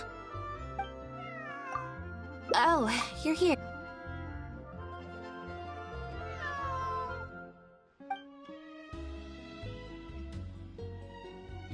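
A cat in Genshin Impact meows loudly a few times in a short burst, caterwaul-like, amid game music and background sounds; a voice speaks briefly in the clip.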